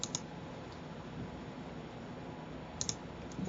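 A computer mouse clicking on a PC, a quick double click at the start and another pair near the end, faint and close over a low steady background hiss.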